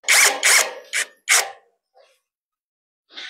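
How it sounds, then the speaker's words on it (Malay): A power drill bores a hole in a wall to mount a fan, running in four loud, close bursts of a second or less each, followed by quiet and a brief final whir. "so kita dah tebuk satu lubang."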